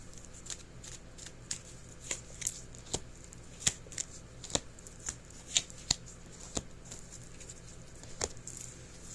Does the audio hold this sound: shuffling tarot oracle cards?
yes